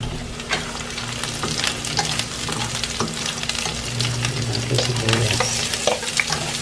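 Garlic sautéing in a pan for lugaw, a steady close frying sizzle with stirring scrapes throughout and no talk.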